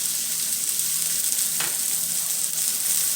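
A burger patty seasoned with salt and pepper fries in a pan, giving a loud, steady, unbroken sizzle with crackling spatter throughout and no talking.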